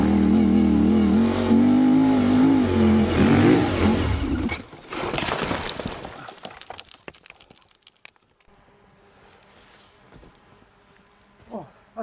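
A CFMOTO 450MT adventure motorcycle revs hard climbing a steep hill, its loud rising engine note dropping away abruptly midway, followed by sparse clatter and a brief rev near the end.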